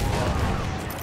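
Burst of rapid gunfire in a Battlefield 1 firefight, a dense, loud volley of shots filling the whole second with no pause.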